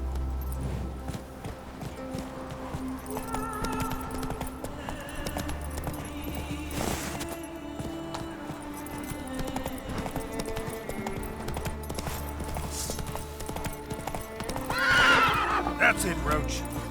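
Roach, the horse in The Witcher 3, gallops with rhythmic clip-clop hoofbeats under an urging voice, and a sharp whinny rises near the end over the steady in-game ambience.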